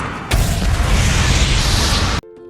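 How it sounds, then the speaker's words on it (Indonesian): A sudden, massive nitroglycerin explosion in a mountain film scene erupts and roars on as a sustained rumble for about two seconds, then cuts off abruptly into near silence. "tapi nitrogliserinnya jatuh lalu meledak"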